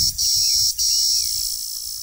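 An insect chirps loudly and close by with a shrill, sustained trill, briefly broken twice, over a low rumbling background.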